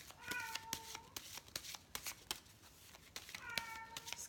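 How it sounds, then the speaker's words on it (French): A house cat meows twice indoors, each a drawn-out tonal cry separated by a pause, quiet and somewhat distant over faint background clatter. "j'ai mon chat qui embête le monde"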